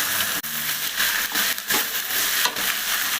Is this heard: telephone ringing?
no